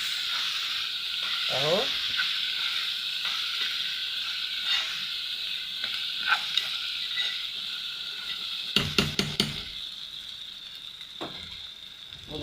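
Rice and vermicelli being sautéed with salt in a pot give a continuous frying sizzle and hiss, broken by a few scraping stirs and clinks of a utensil against the pot, with a brief spoken word.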